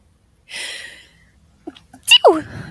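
One close sneeze, a sharp breathy burst followed by a brief voiced exhale, comes after a soft hiss of breath in an otherwise quiet room.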